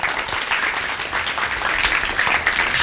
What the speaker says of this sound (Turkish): Şöyle arkamda duran öğrencilere kocaman bir alkış